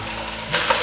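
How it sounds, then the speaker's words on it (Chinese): Mushrooms and napa cabbage stems stir-fry in sesame oil, a close, steady sizzle that swells sharply halfway through as the stems hit the hot pan and are tossed. "把这些菇类炒软，适时的补一点纯白芝麻油，放入大白菜的梗"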